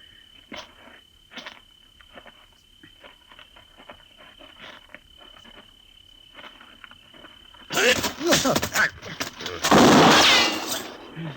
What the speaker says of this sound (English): His gun just went off when you hit him.